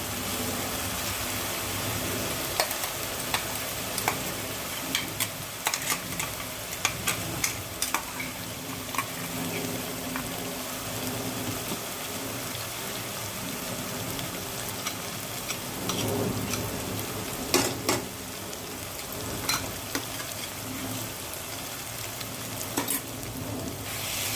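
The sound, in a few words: garlic and green chili frying in pan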